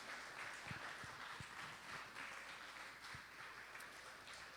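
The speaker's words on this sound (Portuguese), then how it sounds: "Vamos dar um aplauso ao Senhor" A church congregation at a worship service claps together, a broad, steady wash of applause at moderate distance, with a few sharper individual claps standing out and no clear speech over it.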